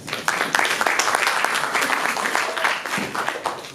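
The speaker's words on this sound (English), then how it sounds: "On peut les applaudir." A conference audience at a liberalism event gives dense, sustained applause, loud and close. The clapping holds at an even level throughout with no pauses.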